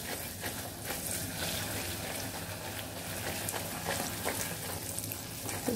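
A wooden spoon stirs a cooking mixture for a coconut flan in a multi-cooker, giving a steady crackling, scraping texture with small clicks and no talk over it.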